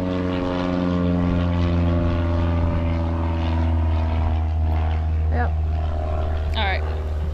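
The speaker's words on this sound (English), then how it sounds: "There's an airplane going above me right now." A propeller airplane drones steadily overhead, a loud sustained tonal hum holding through the whole stretch while someone talks over it.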